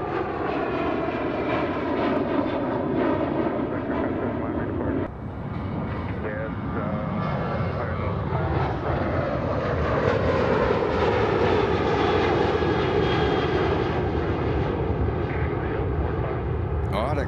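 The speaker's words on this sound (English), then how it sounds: "runway 28 right, clear to take off" A fixed-wing airliner takes off from runway 28 right at Fort Lauderdale airport (FLL), its engines roaring loud and steady at close range for the whole stretch, with an airport tower radio voice talking over it.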